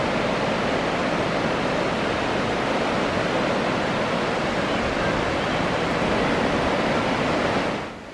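Waves on a beach where a surf school is running its morning session roll in as a steady, loud, broadband wash of surf that continues without a break.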